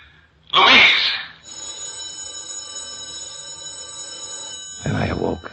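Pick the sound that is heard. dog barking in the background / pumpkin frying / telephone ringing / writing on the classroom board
telephone ringing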